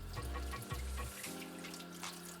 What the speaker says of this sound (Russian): обязательно промываем огурчики под проточной водой